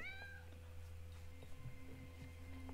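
A cat gives a single faint, high meow at the start. A low steady hum and quiet background sounds follow.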